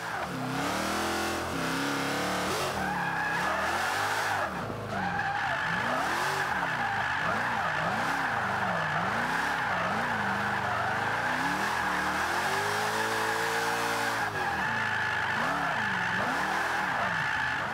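A Jaguar XKRS drifting in Forza 5 roars and revs continuously, its engine pitch swooping up and down as the tires squeal through slides, loud and close with no talk.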